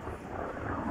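Thunder rolls during a summer thunderstorm in Komsomolsk-on-Amur, a brief low, continuous rumble that sounds distant and muffled, with no talking.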